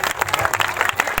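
Audience applause at a Christian prayer meeting, a steady, dense burst of close hand clapping from a crowd, loud and continuous throughout.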